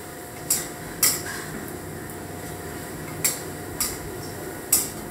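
Onion fritters fry in a pan while a utensil clinks and scrapes against the metal in about six sharp, separate knocks over a faint steady background.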